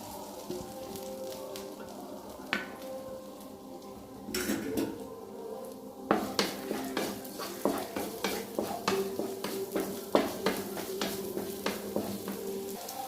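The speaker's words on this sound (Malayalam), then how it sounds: "ഒരു സവാള ഉള്ളി നൈസായിട്ട് നീളത്തിൽ കട്ട് ചെയ്തെടുത്ത് നല്ലതുപോലെ ഒന്ന് വഴറ്റിയെടുക്കണം" Thin-sliced onions are sautéed in a pan for a chicken and coriander curry: a soft sizzle under quiet clinks gives way to a steady run of rhythmic spoon scrapes and taps against the pan.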